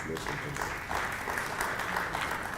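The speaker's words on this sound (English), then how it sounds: "Let's give her a round of applause." Audience applause in a parliamentary house sitting, honoring a farmer from Polokwane, a steady, fairly even wash of clapping running the full length, with some voice-like sound beneath it.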